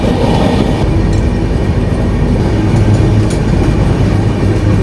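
An AC superfast express train runs between Chennai and Trivandrum, its loud, steady rumble of wheels on rails filling the cabin with a faint rhythmic clickety-clack throughout and no talking.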